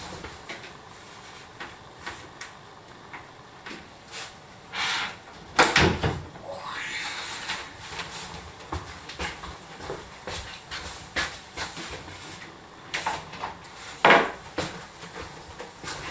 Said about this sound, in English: I've got to take the doors off first before I can get the shelf out